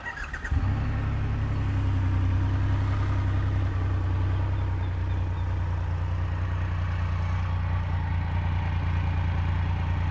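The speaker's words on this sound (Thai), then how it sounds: "ก็เสียงของ เครื่องยนต์แบบ 3สูบเรียงนะครับ" A Triumph Rocket 3 R motorcycle's inline three-cylinder engine fires up and settles into a loud, steady, rumbling idle that runs unbroken to the end, with no voices.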